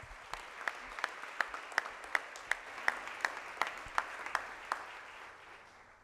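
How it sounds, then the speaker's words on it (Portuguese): Applause at a solemn session, a slow, regular series of loud synchronized claps from a crowd, about a dozen evenly spaced beats over a soft background wash that fades at the end. "Uma forte salva de palmas."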